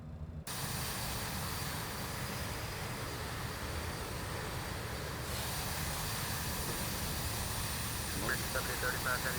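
Engines of a BAe146 jet, simulated in X-Plane 12, drone as a steady broadband roar with hiss while the aircraft readies for takeoff; voices talk faintly over the continuous noise.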